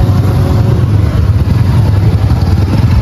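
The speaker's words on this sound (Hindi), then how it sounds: "अभी आगे देखते हैं तो काफ़ी ज़्यादा ट्रैफिक है" Congested road traffic at the Chamba bus stand rumbles with the steady low drone of idling engines nearby, a constant loud mix with no distinct revs.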